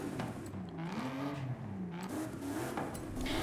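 A racing 7.2 V8 engine swapped into a trick truck in Forza Horizon 5 revs up and down in loud, rising and falling sweeps, close and continuous with no talk.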